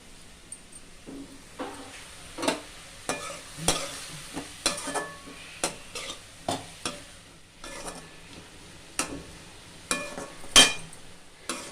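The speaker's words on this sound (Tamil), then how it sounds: "நல்லா கலந்துட்டு இதையும் போட்டு கலந்துடலாம்" Finger millet (ragi) adai batter with peanuts, sesame seeds and turmeric being stirred and mixed, producing close, regular scraping and sloshing strokes about once a second, with light clinks of the utensil and no voices.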